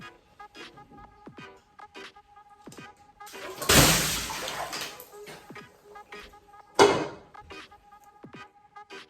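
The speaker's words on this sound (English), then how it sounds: "let me show y'all how she threw this water" Water thrown hard from a basin during a Korean body scrub lands in a loud splashing whoosh lasting about a second, then a second sharp splash follows a few seconds later, set between quieter clattering and movement sounds.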